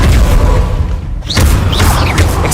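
The Incendio fire spell in Hogwarts Legacy gameplay lands as a loud, booming burst of fiery roar. A short dip is followed by swooping whooshes and another rumbling blast, all dense and close.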